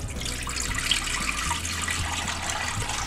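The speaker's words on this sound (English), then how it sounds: "you take your chicken broth, you turn your stove on." Chicken broth pours from a container into a pot on a stovetop for chicken soup, a steady close liquid gush running the whole time with no talk.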